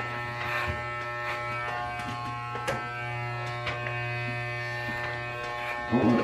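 Electric hair clippers buzz steadily through a self-haircut, blending and fading the sides, with a constant close hum and small changes in tone as the blades pass through hair.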